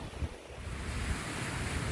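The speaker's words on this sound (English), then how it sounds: "we have our own private beach" Surf washes onto a private beach in Greece in early March, a continuous soft rush of breaking waves mixed with wind buffeting the microphone, with no voices.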